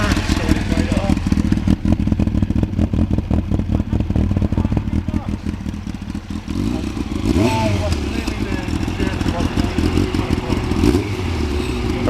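A restored Ducati motorcycle engine fires up almost instantly and settles into a rapid, steady idle with clattering mechanical ticks at an outdoor meetup, while people talk nearby.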